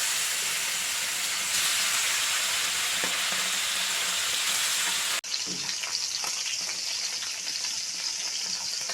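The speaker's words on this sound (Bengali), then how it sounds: "এরপরে মাছগুলো এভাবে কড়াইতে ভেজে নেবেন।" Bata fish coated in turmeric, chili powder and salt sizzles steadily in oil in a kadai wok, a loud, dense, continuous hiss that briefly breaks and then resumes slightly thinner.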